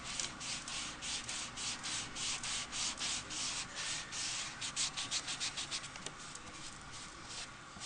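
A sponge dauber scrapes and dabs ink onto a handmade birthday card in repeated soft rubbing strokes, close and steady, with a quicker run of short dabs near the end and no talking.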